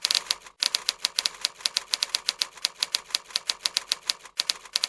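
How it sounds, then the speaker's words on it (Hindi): Rapid, steady keystrokes on a keyboard during a speed-typing test, a dense run of sharp clicks with two brief pauses, close and clear with no talking. "I just वांना show you that this is how you type."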